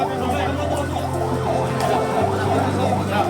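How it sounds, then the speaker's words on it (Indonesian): Several ambulance sirens wail together at an accident scene near a railway crossing in Bekasi, with rising and falling tones, loud and close, with people talking anxiously underneath. "Ambulan banyak."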